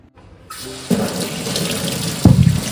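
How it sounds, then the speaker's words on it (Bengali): Potatoes are washed under a running kitchen tap, the water starting after a short quiet moment and then rushing steadily, with louder splashing surges as the potatoes are handled. "তো আলুগুলো একটু ধুয়ে নিচ্ছি"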